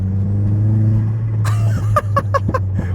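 A Chrysler Crossfire's engine idles with a steady low drone, then a series of sharp clattering bursts and pops rings out over it near the end, close and fairly loud.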